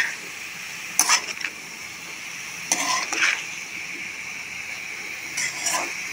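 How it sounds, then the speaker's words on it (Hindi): Meat for daal gosht being mixed in a cooking pot, heard as a few short scraping, sizzling stirs spaced by quiet moments over a soft background hiss. "बस इसको मिक्स कर रही हूँ"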